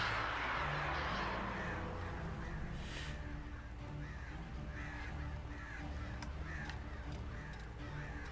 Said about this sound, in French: Maudits oiseaux.